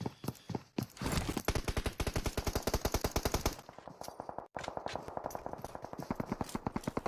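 Rapid automatic gunfire in PUBG Mobile on the Erangel map, dense bursts of loud evenly spaced shots rattling almost continuously, with a brief gap before the firing resumes.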